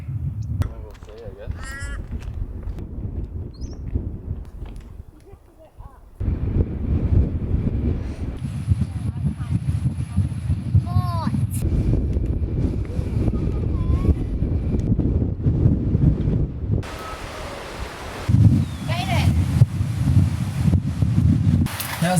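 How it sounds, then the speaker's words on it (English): Strong, gusty wind buffets the microphone at a beach cave near Esperance, a deep, steady roar that swells and drops. Faint voices and bird-like calls come through now and then. "How's this wind? It's pretty gnarly. It's torrential."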